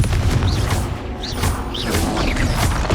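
Confringo blasting spell explosions in Hogwarts Legacy: a busy combat mix with repeated bursts and whooshing impacts at a steady, loud level, with several short rising spell flourishes about every half second.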